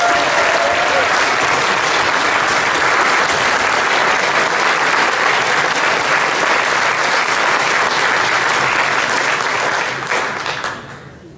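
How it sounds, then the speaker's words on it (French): A large audience at a French political rally in Boulazac applauds steadily and loudly for about ten seconds before the clapping thins and fades out. "Je vous demande d'applaudir Nathalie Fabre."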